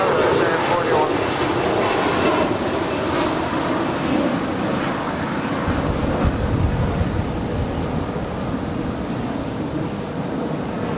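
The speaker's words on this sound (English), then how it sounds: "The Turkish airline Dreamliner now starting her taxi." A Turkish Airlines Dreamliner taxiing at Los Angeles airport, its engines giving a steady broad rumble and roar throughout, with wind noise and faint talk mixed in.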